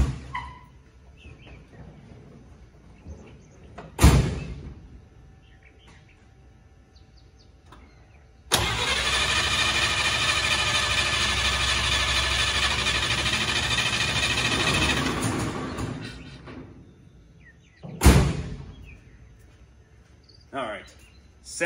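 A car engine fitted with a new electronic ignition trigger cranks steadily for several seconds without firing, the starter whirring loudly and evenly, with sharp clicks before and after and quiet background sounds in between.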